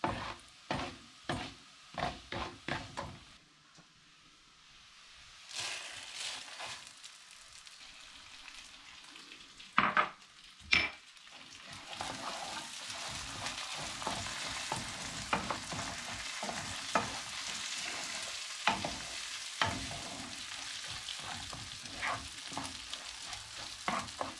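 Vermicelli and rice stirred and toasted together in a pot for chickpea pilaf: a steady dry sizzle with repeated scraping stir strokes, close and continuous, no talking.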